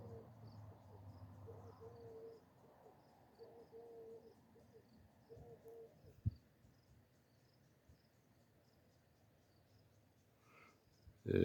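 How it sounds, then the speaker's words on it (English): A dove coos faintly and far off in the early morning countryside around Fort Davis, Texas, its low hooting calls repeating softly over a quiet bed of insect chirping, ending with a sudden close knock. "Can you hear the dove in the background?"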